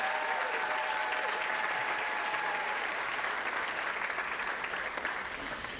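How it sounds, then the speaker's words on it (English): At a Bethel College convocation an audience applauds a speaker's introduction, a broad wash of clapping that stays fairly even and fades slightly at the end, with a faint whistle-like tone early on. "Go ahead, let's clap"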